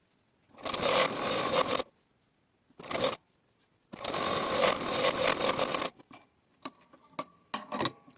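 Sewing machine stitching a folded cloth strip, running in bursts of a few seconds each, stopping and restarting, followed by quieter clicks and small handling noises.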